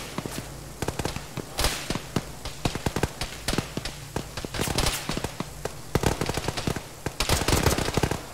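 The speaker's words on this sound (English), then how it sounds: "There's people shooting us." Rapid gunfire crackles through a squad battle in the video game Arma, bursts of sharp shots near and far in uneven volleys over a steady background hum, without talking.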